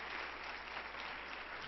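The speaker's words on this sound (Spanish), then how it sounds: "reciban con un fuerte aplauso a Angelita Maldonado" An audience bursts into steady, dense applause welcoming Angelita Maldonado on stage at a 2007 Clama event, a faint, even wash of clapping with no voices heard.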